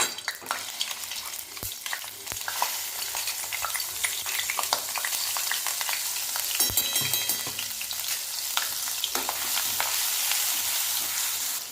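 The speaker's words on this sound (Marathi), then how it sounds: "तेल गरम झालेलं आहे आता ही आपली कांद्याची पेस्ट टाकून घ्यायची" Cashew and onion paste fries in hot oil with a steady, loud sizzle and crackle throughout, broken by occasional scraping stirs of a spoon in the pan; no voices.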